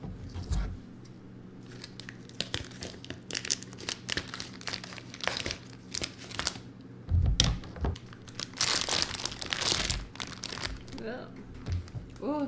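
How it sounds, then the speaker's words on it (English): Knife chopping beef fat into small bits for rendering tallow in a home kitchen, a steady run of crisp, crinkly cuts and scrapes close to the microphone, with louder bursts near the middle and a voice murmuring in places. "Get ready for some amazing fat cutting ASMR with this microphone."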